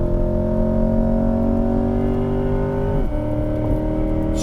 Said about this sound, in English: You can hear that e-motor spool up.